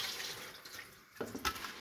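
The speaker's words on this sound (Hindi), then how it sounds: "इनको पानी जितना भी ऊपर है वो ज़ाया कर दिया जाएगा" Water is drained off soaked rice in a home kitchen while biryani is being made, giving a soft running trickle that turns into a louder, brief splashy pour near the end.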